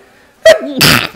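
A single loud sneeze lands directly into the microphone, a sharp intake followed by a harsh, explosive burst, close and alone.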